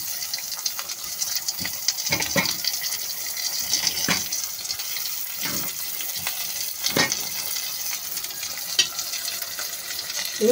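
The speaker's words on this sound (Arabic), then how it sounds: "هنزل بقى بالقوانص الاول علشان القوانص بتاخد سوا عن الكبده" Chicken gizzards hit a pan of browned onions and fry with a steady, close sizzling hiss, broken by occasional stirring scrapes and knocks.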